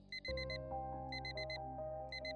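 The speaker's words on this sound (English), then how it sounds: "Morning light coming through the curtains, your alarm just went off." An alarm clock goes off with rapid bursts of high electronic beeps repeating in groups of four, sounding over a soft sustained musical tone, fairly faint overall.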